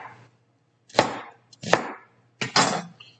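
Ground beef being broken up in a pan to brown, three sharp scraping knocks of a utensil against the pan, spaced about half a second to a second apart, with no talk.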